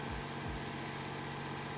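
An Ursus tractor engine pulls a plough through a field, giving off a steady, loud, continuous drone with a sustained tonal whine running through it for the whole stretch.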